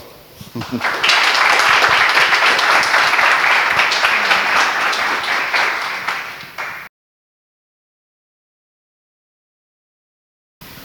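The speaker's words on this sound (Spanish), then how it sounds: "Un aplauso." Audience applause at a behavioural-science talk event, a loud sustained burst of many hands clapping for about six seconds, then cutting off to silence.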